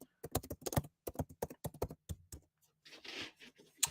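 Keys clatter on a computer keyboard in quick irregular bursts of close, crisp taps, separated by short pauses, with a brief hiss of noise near the end.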